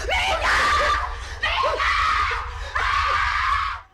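A woman screams in a possession scene from the 2007 horror film Paranormal Activity. Three loud, piercing shrieks come in quick succession, each rising sharply and trailing off, close and raw over a low rumble.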